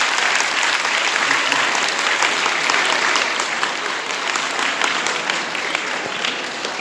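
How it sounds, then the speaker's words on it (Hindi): Steady applause from a crowd at a government higher secondary school event in Rajasthan, dense and sustained for several seconds, loud and even, easing slightly toward the end. "देखो कुछ तालियां सुनो"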